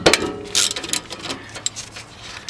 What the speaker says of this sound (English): The first thing you're going to need is going to be a 13mm socket to take off the calipers.